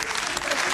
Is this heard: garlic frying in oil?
no